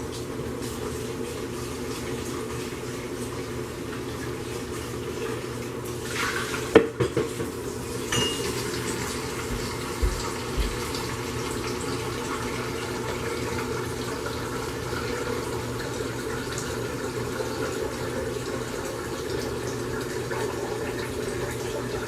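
A container from cold process soap making, with leftover lye, being rinsed under running water, a steady close water rush with clinks and knocks of the container against a sink partway through.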